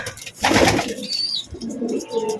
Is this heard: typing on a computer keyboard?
no